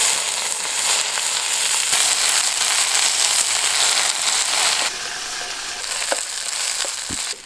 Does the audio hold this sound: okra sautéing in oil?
yes